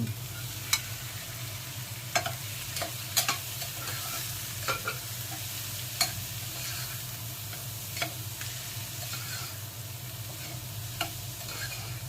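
Shrimp and tomato sauté in a pan with a steady crackling sizzle, punctuated by occasional clicks and scrapes of stirring at irregular intervals.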